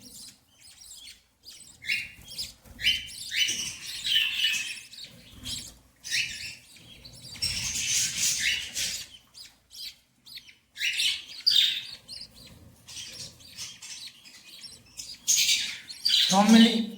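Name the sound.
pet birds chirping in a cage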